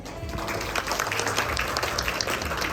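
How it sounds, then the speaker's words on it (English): A seminar audience claps along, a dense, fairly even patter of many hands under low background hum, steady throughout a few seconds. "Clap your hands."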